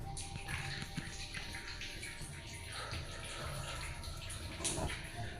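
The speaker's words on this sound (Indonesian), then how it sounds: "ada air jatuh persis di pusaran atau di tengah-tengah batu tersebut" Water falls steadily onto rock inside a cave, like a tap running, a continuous splashing trickle heard up close.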